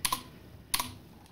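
Two quick bursts of keystrokes on a computer keyboard while searching the Windows 11 start menu, close and fairly quiet, separated by a short pause.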